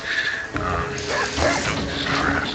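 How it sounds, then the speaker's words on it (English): A Norse player's dog in the Age of Empires Online strategy game yips and whimpers in short bursts, heard close over continuous game sounds and background music. "he's a Norse and he's got this stupid dog"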